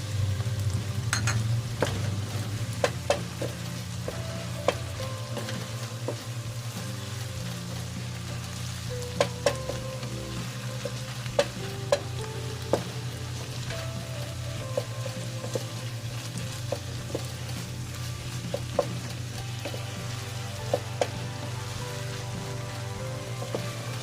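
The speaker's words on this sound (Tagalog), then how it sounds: "Inamix lang natin maigi." Bangus sisig is stirred in a frying pan, a constant loud sizzle broken by frequent scraping clicks of the utensil against the pan over a long stretch, with no voices.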